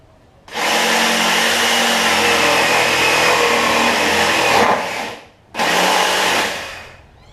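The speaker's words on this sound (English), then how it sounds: "So I'm actually going to first try my jigsaw, see how that works." A jigsaw cuts wood for a kitchen table, running loud and steady for about four seconds, stopping briefly, then starting again for a shorter burst.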